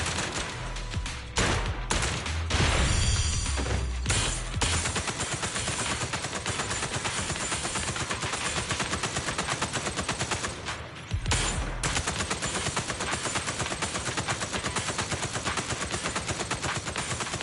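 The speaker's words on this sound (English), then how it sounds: "A couple of gunshots won't kill her." Sustained rapid gunfire in the video game Zenless Zone Zero, a dense, steady, loud stream of shots that runs almost unbroken, with only brief dips.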